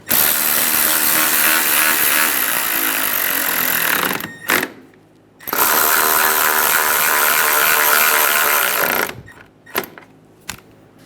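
A power tool tightens horn assembly bolts on a 2007-2017 Ford Expedition, two loud sustained bursts of whirring drive with a short gap between, then brief clicks and near-silence.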